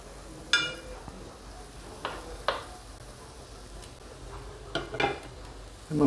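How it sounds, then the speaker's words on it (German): Chicken, carrots and peppers brown in a pan with a low, quiet sizzle, broken by a handful of sharp utensil clanks and scrapes against the pan. "Immer mit der Ruhe das Ganze anbraten."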